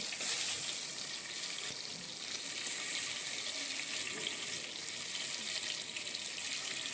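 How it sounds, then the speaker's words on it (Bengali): A peeled boiled egg, slit open, fries in a pan with a steady, even hiss of oil that carries on without pause, moderately loud and close, with no voices. "এবার ডিমটা আমি ভেজে নিচ্ছি"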